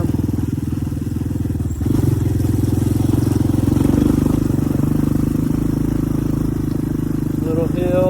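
A Titan 250 dirt bike runs steadily in fourth gear on a dry, rocky dirt track, its engine droning continuously throughout with a brief dip early on, close and loud, with wind and rider noise.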